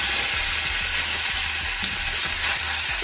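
Fish fries in butter in a pan with a loud, constant hiss. A few soft clicks of a spoon or utensil come through underneath as the fillet is moved and flipped, and no one speaks.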